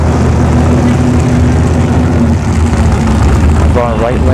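Supercharged Ford F-150 Tremor at a drag strip, a loud, dense engine roar with a heavy low rumble that holds steady throughout, close to the microphone.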